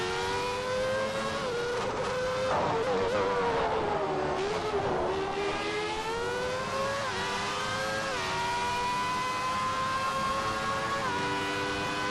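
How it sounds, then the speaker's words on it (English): A Williams FW14 Formula One car with a Renault RS3 engine, in a racing simulator, screams continuously at high revs with a throaty edge, pitch rising and dipping through gear changes and corners, loud and unbroken. "Very high-pitched yet throaty sound from that Renault RS3 in the back."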